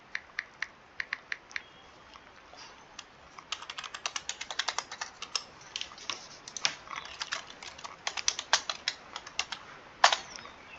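Computer keyboard keys tapped while entering a mobile number into an online admission form: quick irregular bursts of crisp clicks with short pauses, close and fairly quiet, no talking.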